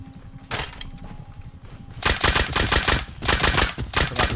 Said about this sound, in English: With that nail gun, big boy.